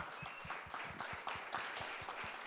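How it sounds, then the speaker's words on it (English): A small audience claps at a cooking demonstration on Mediterranean tofu dishes, a brief, faint, steady patter of hands heard from a distance. "round of applause."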